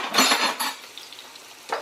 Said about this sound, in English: we're gonna mix all of this together